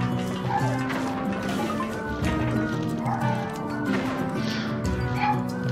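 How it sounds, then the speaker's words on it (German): A small dog in Captain Toad's Treasure Tracker gives short yapping barks mixed with crashing and thwacking game effects, fairly close and busy. "Oh ja, der kleine Hund von draußen."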